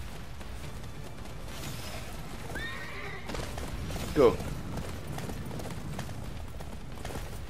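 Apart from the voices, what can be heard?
horse neighing and galloping in Attack on Titan video game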